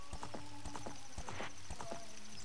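A horse gallops in Zelda: Ocarina of Time, its hooves clip-clopping in a quick, even rhythm, with a brief whinny over a steady game background.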